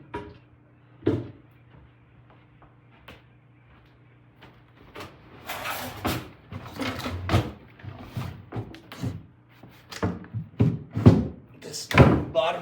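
Wooden cabinet doors and drawers in a house under inspection being opened and shut, a series of knocks, thumps and sliding clatters, some drawers sticking, irregular and close, with quiet gaps between bursts.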